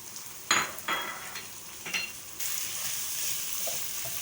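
Minced meat (qeema) with whole red chillies fries in a pan, a few scraping stirs at the start, then a steady bright sizzle that holds to the end.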